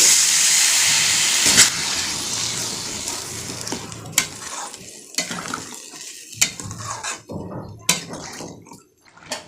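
Water poured into cooking eggplant masala with a loud steaming hiss that fades over a few seconds, followed by spoon scrapes and taps against the pot as the hiss quiets.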